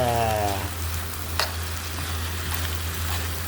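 Beef skin frying for sisig gives a steady, dense sizzle close by, with a low hum under it and a brief clink partway through.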